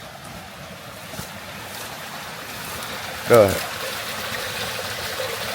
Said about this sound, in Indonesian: sungai kecil aja gini